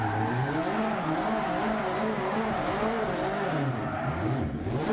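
Virtual rally car in Dirt 2 VR spinning donuts, a steady loud engine drone with wavering pitch and tire squeal running throughout, close and continuous without talk.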